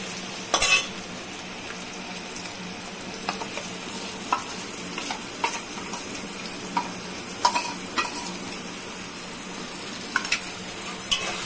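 Fried potatoes coated in spices sizzle steadily in a pan while a utensil stirs them, scraping in short irregular strokes over the continuous close frying hiss.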